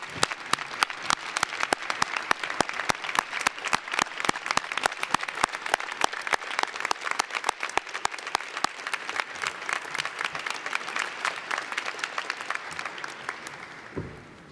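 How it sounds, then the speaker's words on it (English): A graduation crowd at a dentistry school commencement gives a standing ovation: dense, sustained applause with many overlapping claps that holds steady and then tapers off near the end. "the people who supported you all these years deserve a round of applause, maybe even a standing ovation"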